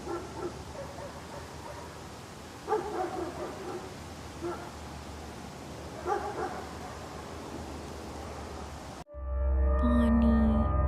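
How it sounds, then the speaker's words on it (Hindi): Dogs barking outdoors at night, a few scattered bark bursts at moderate distance over a steady windy background, then the scene cuts to a louder, different ambience. "बाहर कुत्तों के भौंकने की आवाज आ रही थी"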